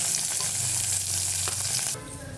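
Onions frying in hot oil with cumin and mustard seeds, a loud continuous crackling sizzle that drops to a quieter level near the end.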